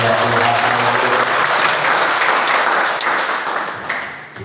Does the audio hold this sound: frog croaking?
no